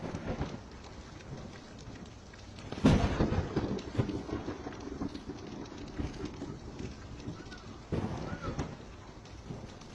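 Rainstorm with thunder: a constant hiss of rain on surfaces, broken by a sharp loud thunderclap early on, a rumbling tail, and a second fainter rumble later, with no speech.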